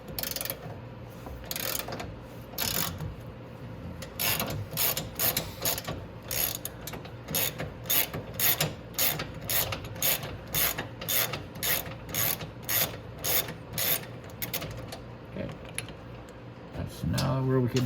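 A ratchet wrench loosens the rear axle on a Venom Mini Jeep 125cc, with repeated close, sharp clicking strokes in a steady back-and-forth rhythm over a faint background hum.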